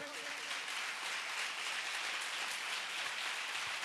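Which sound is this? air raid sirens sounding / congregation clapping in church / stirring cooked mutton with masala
congregation clapping in church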